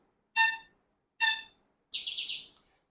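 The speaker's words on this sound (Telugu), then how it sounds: "మీకు బర్డ్స్ సౌండ్స్ ఎక్కువ వస్తున్నాయా?" Small birds call near an indoor space: two sharp, evenly spaced chirps followed by a brighter, higher trilling call, each short and clear against near silence, with no talk over them.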